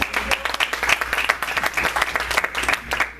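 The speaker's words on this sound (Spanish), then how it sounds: "Démosle un fuerte aplauso al Señor." A Spanish-speaking church congregation gives the Lord a strong round of applause, with loud, dense clapping from many hands in rhythmic bursts, close and steady throughout.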